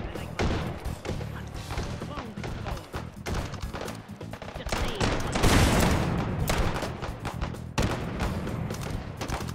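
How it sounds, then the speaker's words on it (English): Rapid gunfire crackles through a virtual reality shooter, Hot Dogs, Horseshoes & Hand Grenades, with a dense burst of shots peaking midway and steady shooting continuing around it, loud and close. "Oh, somebody shooting at me?"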